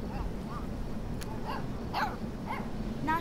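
Mushroom, a puppy in Life Is Strange 2, gives a few short, faint yips and barks spaced across a quiet outdoor scene.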